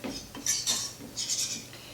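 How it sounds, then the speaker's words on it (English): Metal utensil scraping and clinking against a pan while stirring a thick flour roux for gravy, several short bursts in an irregular rhythm, close and moderately loud with no talk. "this is making the roux that we're going to make our gravy out of. Stir it around."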